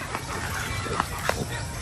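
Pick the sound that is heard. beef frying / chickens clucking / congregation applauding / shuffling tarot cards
chickens clucking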